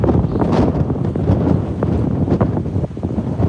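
Strong wind at sea during a Gulf of Mexico fishing trip in Tropical Storm Bertha buffets the microphone, a loud, constant rumbling roar with gusty flutter and no pauses.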